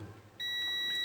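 Multimeter continuity buzzer from a Mechanic SIV 120 meter, a steady high electronic beep that starts abruptly partway through and holds to the end, close and clear over a quiet background.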